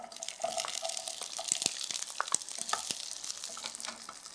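Onions frying in oil in a pan give a steady crackling sizzle, sprinkled with sharp pops and a few light clinks, close and fairly loud, with no talking.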